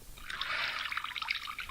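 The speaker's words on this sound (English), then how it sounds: "I poured the officers tea" Tea pours into a cup in a short, thin trickle that ends in a few soft drips, quiet and close.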